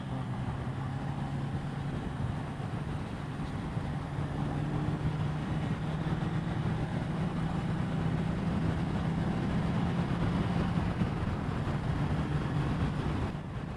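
Suzuki GS750E classic motorcycle engine while riding, a steady low droning hum with broad wind rush, continuous and fairly loud throughout with no pauses.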